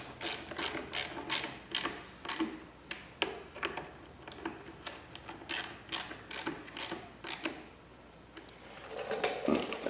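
A socket ratchet tightens bolts on a 2022 Kawasaki KLR 650 tail light mod, giving close, crisp repeated clicking strokes in quick bursts with short pauses between, alone without talk.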